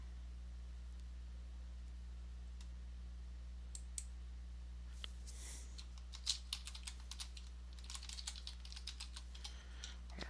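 A password being typed on a computer keyboard during Linux Mint setup, heard as faint scattered key clicks over a steady low hum, picking up into a quicker run of taps in the second half, with no talking.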